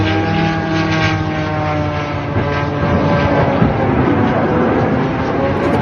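Propeller aircraft passing overhead during a war-front air display, a loud steady drone with a rising and falling pitch that fills the whole stretch without a break.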